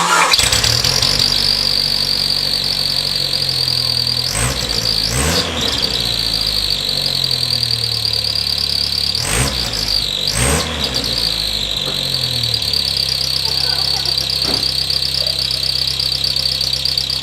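A loud, steady high-pitched squeal from a whistle tip in a Jeep Wrangler's exhaust drones over the idling engine, with a few revs swelling and fading under it.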